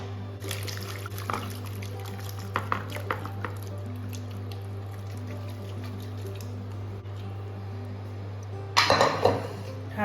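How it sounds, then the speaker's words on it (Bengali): Gravy is transferred from a pot into a bowl, giving soft wet squishes and drips with scattered clinks and scrapes of a utensil, ending in a louder burst of scraping against the dish over a steady background hum. "ঠান্ডা করার জন্য একটা বাটিতে আমি ট্রান্সফার করছি"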